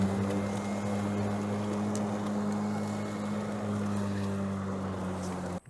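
A Ryobi 40V self-propelled battery push mower runs close by with a steady, even whine and hum that holds unbroken throughout, then cuts off abruptly at the very end.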